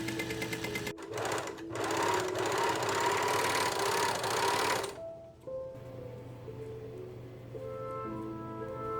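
A serger sewing machine finishing the cut edges of fabric pieces flatlined to white cotton, running steadily and loudly for several seconds before stopping, leaving a quieter hum.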